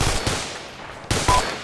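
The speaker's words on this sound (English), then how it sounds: "Taking fire from the position to quarter left." Gunfire in a military video game, a few sharp nearby shots in quick succession, two clear bursts over a low rumbling background.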